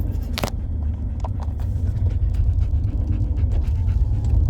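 A dog pants rapidly and steadily after a workout at an outdoor playground. The breathing is close and continuous over a low rumble of wind and distant traffic, with no talk.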